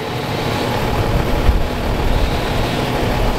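Chainsaws running near a tree that has fallen onto a car, a steady rough engine drone that holds for the whole stretch with slight swells in loudness, somewhat distant and mixed with broad outdoor noise.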